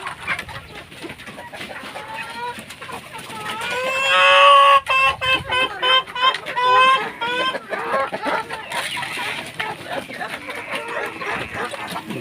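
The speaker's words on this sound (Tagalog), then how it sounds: "Dito muna ako sa mga Rhode Island Red." Rhode Island Red chickens cluck in a free-range yard, a burst of loud, close squawking clucks building midway and then trailing into scattered calls, with a person talking over parts of it.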